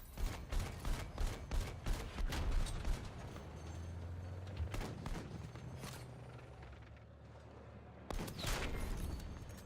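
Rapid bursts of gunfire in the Battlefield 6 video game, a fast string of sharp shots at the start and more scattered cracks later over a steady rumbling background.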